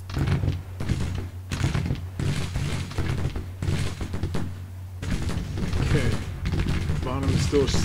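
Rapid gunfire rings out in Grand Tactician: Civil War as volleys and scattered shots thud repeatedly under a constant low hum, with a voice talking over part of it.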